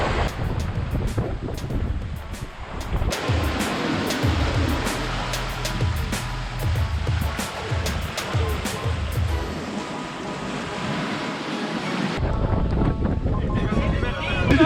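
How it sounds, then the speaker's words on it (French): A tropical squall at sea: heavy rain and gusting wind roar continuously, with water rushing and wind buffeting the microphone, and a voice speaking partway through. "un grain c'est beaucoup de pluie et beaucoup de vent"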